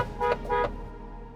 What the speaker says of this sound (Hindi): अगर आपको मेरे हॉर्न की आवाज आए तो।